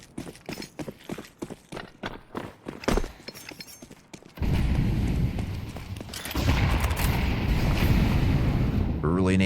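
Grenades explode in a competitive Counter-Strike match. A run of quick clicking steps and taps gives way to a sustained, heavy roaring blast that fills the rest of the moment, with commentary partly underneath.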